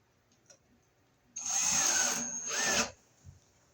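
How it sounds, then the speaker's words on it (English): A power drill drives solid deck screws into a piece of wood used for mounting a ceiling fan light, giving one steady whirring burst of about a second and a half with a brief dip before it stops. "we'll screw it in with some good solid deck screws here"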